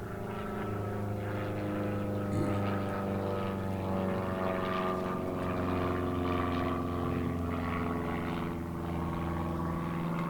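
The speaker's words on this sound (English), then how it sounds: "I'm just going to let this airplane fly overhead here." Steady droning propeller airplane passing overhead, a continuous engine hum that holds at an even, moderately loud level throughout with no talking.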